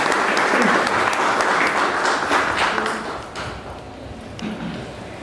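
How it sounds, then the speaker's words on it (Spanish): Warm applause from an audience at a criminology lecture welcoming a guest speaker, a dense wash of clapping that starts strong and gradually thins out over a few seconds. "quisiera que lo recibamos con un fuerte aplauso"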